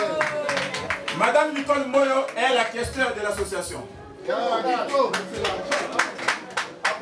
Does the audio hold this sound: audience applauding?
yes